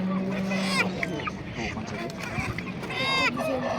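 Chickens at a livestock market selling sheep and cattle: clucking and squawking fowl mixed with busy crowd chatter and people talking nearby, continuous and moderately loud.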